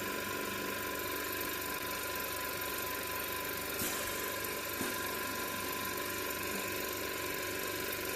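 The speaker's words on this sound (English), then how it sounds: "Yes, that's a very shaky compressor actually." An oxygen concentrator's compressor runs steadily under repair, a constant mechanical hum with a rattling, vibrating shake and a couple of faint knocks, moderately quiet and with no talk.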